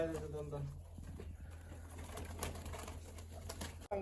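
Soft coos from pigeons taken from their loft for eye medicine murmur close by over a steady low hum, with a person talking quietly in the background.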